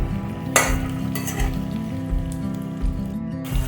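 Potatoes with turmeric being stirred in a frying pan, a steady sizzle under intermittent scraping and clinking of a spoon against the pan, close and moderately loud with no talk.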